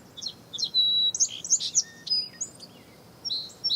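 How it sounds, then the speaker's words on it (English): A bird answers song played from the Audubon app on a Bluetooth speaker: thin, high chirps and whistled notes in quick bursts, fairly quiet against a soft background hiss. "And there's the bird responding back."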